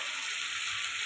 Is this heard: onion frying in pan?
yes